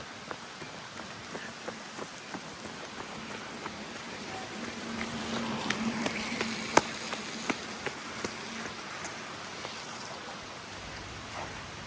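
Heavy rain pours steadily near a Kerala bus stand, a dense continuous hiss of drops striking surfaces with occasional sharper splashes and no talking.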